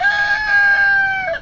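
A rooster crows once, near and loud, in a backyard flock kept in a movable chicken tractor, the call holding a steady pitch for over a second before breaking off.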